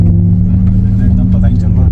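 An electric car drives under automatic acceleration, giving a loud, steady low hum and rumble that fills the short stretch.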